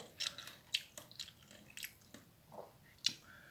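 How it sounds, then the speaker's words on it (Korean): Close, quiet chewing of thorny tree shoots eaten with shrimp, with soft wet bites and squishy crunches in an irregular rhythm and no talking. "이번엔 새우를, 새우를 한번 같이 곁들여서 한번 먹어보도록 하겠습니다"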